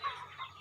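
Chickens in a backyard coop give a few soft, quick clucks, three short calls spaced across less than a second, faint and close, with no speech over them.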